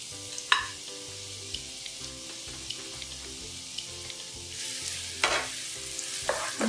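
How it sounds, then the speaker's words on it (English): Chopped onion sizzles in hot regular oil with cardamom in a pan, a steady crackling fry close up, broken by a few sharp clicks and louder bursts of spitting as it is moved around. "See that it's starting to sizzle already."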